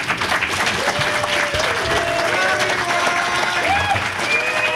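Audience at a podcast fan convention applauding, a sustained wash of dense clapping with some cheering and voices mixed in throughout.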